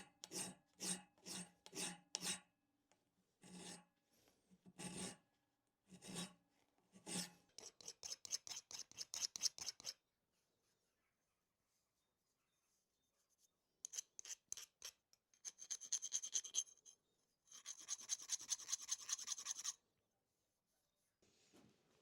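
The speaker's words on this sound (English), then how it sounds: "I'm gonna refine the shape with files." Hand files rasp over a forged steel dragon candle holder in bursts of close, rhythmic strokes, some slow and separated, others quick and dense, with quiet pauses between sets.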